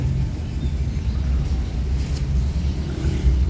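Busy late-afternoon traffic on a narrow street in Tanjung Redeb, Berau, with a steady rumbling wash of passing cars, close and continuous, without clear individual pass-bys.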